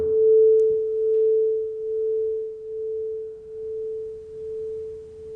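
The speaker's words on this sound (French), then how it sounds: "on entend un son de battement" Two slightly detuned tuning forks sound together as one steady pure tone whose loudness swells and fades in slow, regular beats, about one pulse per second, alone and clear.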